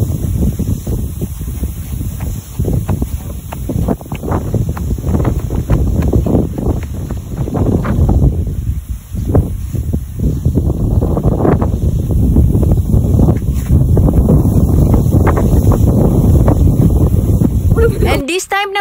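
Strong wind on Corregidor Island roars and buffets the microphone steadily throughout, loud and close, with a brief lull partway through.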